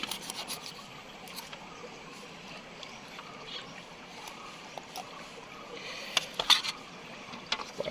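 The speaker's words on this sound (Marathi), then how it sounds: "हे पंख ना कापून टाकूया" Scissors or a knife snip and scrape through the fins of a large whole tambusa fish, up close, in soft rasping and rubbing strokes with a few sharper cuts near the end, no talk over it.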